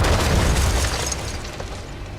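Heavy tank gun fire in World of Tanks from a Churchill heavy tank, a deep booming blast with a rumbling tail that fades slowly, loud and close.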